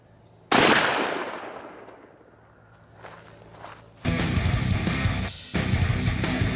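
A single loud 44 Magnum gunshot cracks out at a concrete block from about 20 yards, a sharp blast with a fading tail, followed a few seconds later by a sustained noisy rumble.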